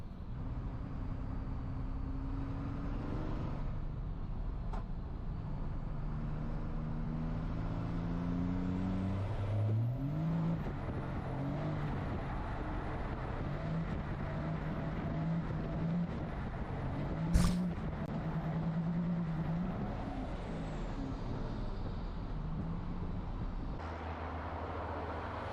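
A drifting car played back from another video, a steady engine roar with rising and falling revs and a few tire and mechanical clatters, heard at a moderate distance.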